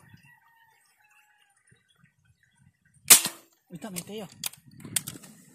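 A single sharp gunshot cracks out during a wild bird hunt after near silence, followed by scattered rustling and handling noises close by.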